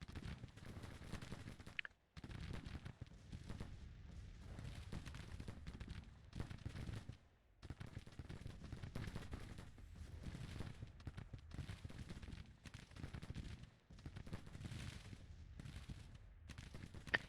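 Dense musket volleys and artillery fire in a Civil War battle from the strategy game Grand Tactician, rolling continuously with loud crackling bursts and booms, broken by a few brief lulls.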